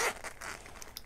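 A zipper being pulled closed on a small sparkly blue case holding knitting notions, a quick scratchy run of short zipping strokes heard up close with no talking.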